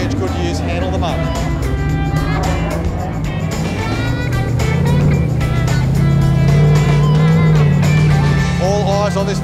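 An off-road truck on 43-inch Goodyear tyres churns through mud at a Tuff Truck Challenge event, its engine roaring loud and steady throughout as it grows slightly louder midway, with an announcer talking over the noise.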